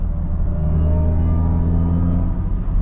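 A synthetic engine-like tone hums steadily with layered harmonics, the artificial drive sound of a Mercedes-AMG EQE 53 electric car accelerating onto the Autobahn, loud and close without talk.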